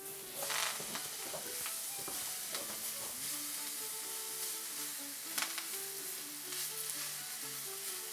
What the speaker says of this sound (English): I'm going to take our greens here and I'm going to wilt them in a little bit of butter in the frying pan